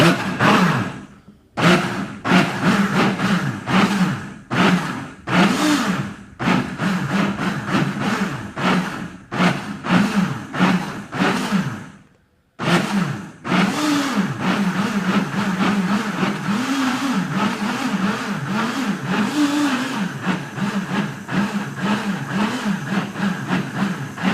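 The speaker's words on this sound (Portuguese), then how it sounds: "É assim que é feito o som do motor do Gran Turismo" A car engine revs while being recorded for the video game Gran Turismo Sport. Loud repeated bursts of throttle rise and fall, broken by a brief silent cut, then settle into a sustained, rhythmically revving engine, with no voices.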